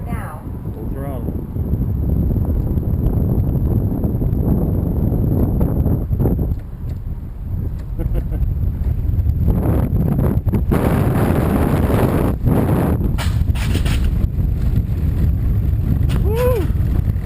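Rocky Top mountain coaster ride at full throttle, with heavy wind rush and rumbling track noise that runs continuously, loud and close, while a voice speaks at times over it.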